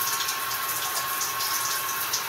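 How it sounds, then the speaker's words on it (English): Water rushes steadily from a shower fed by a small on-demand water pump, a continuous, fairly strong hiss and spray that holds even throughout with no voices. "Ito na, ang tubig. Medyo malakas na siya."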